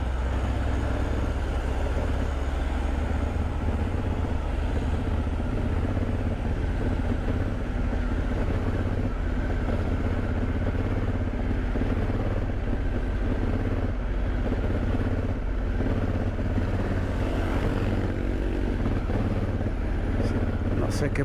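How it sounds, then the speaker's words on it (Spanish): Motorcycle ridden on the road near Mérida while its engine runs poorly and lacks power, a constant loud droning engine and wind roar throughout, with a voice talking over it. "La moto no me está andando bien. No tiene fuerza."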